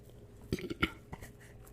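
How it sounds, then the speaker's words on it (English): A single throaty burp-like hiccup erupts close to the mic, with a short second catch just after, followed by a brief quieter sound in an otherwise quiet room. "I had a bad hiccup"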